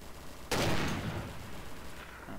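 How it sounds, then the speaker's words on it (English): A single sharp gunshot rings out in a ZombieRP video game as a player fires through a prop. It is a sudden crack with a fading echoing tail, heard alone against quiet background noise. "you shoot through a prop and I'll tell you if it goes through"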